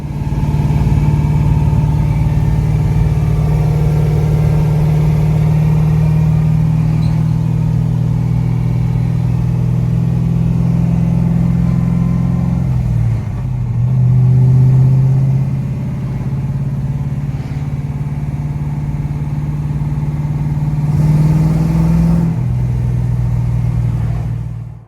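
A Nissan S14 with an LS V8 swap runs steadily at a close, loud, continuous idle, with brief dips and blips of revving around the middle and near the end.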